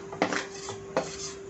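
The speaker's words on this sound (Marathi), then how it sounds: "आता आपण हे गार झालेलं जे बेसन आहे भाजलेलं ते चाळून घ्यायचं आहे थोडं थोडं करून" Two distinct metallic clinks of a utensil striking a kadhai while roasted gram flour is sieved in small batches, each sharp knock followed by quieter scraping, heard close up.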